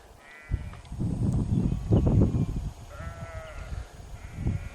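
Sheep bleat intermittently across windy open paddock land in the Tasmanian countryside, with a crow cawing now and then and a steady low rumble of wind underneath.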